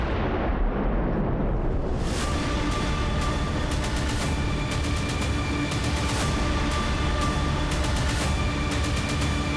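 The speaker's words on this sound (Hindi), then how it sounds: "ये तो छोटा सा धमाका था।" A small bomb blast at a building in a TV crime drama bursts into a loud, sustained roar with crackling debris that fills the scene for several seconds, with no voices.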